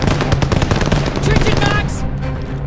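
An MG-42 machine gun in the Call of Duty Vanguard video game fires rapid, loud bursts in a dense rattling stream amid other gunfire, then cuts off, with shouted voices mixed in.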